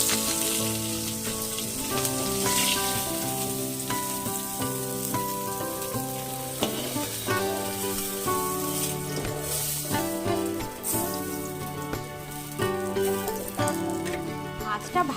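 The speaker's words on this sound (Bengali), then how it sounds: "মাছটা ভাজা হতে হতে আমি একটা মশলা তৈরি করে নিচ্ছি।" Fish fries in oil in a wok for a Bengali curry, a continuous crackling sizzle like light rain running under clinks and kitchen clatter, fairly close but moderate in level.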